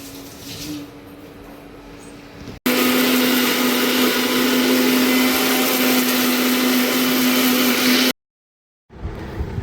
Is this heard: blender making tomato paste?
yes